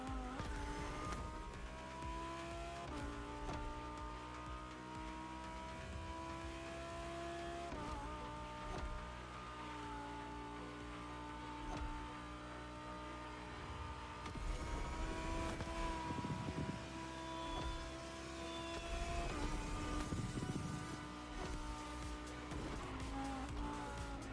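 A Mercedes 300 SLR engine drives in a racing video game, a continuous loud engine drone that shifts pitch through gear changes with revving rises and occasional tire noise, steady throughout.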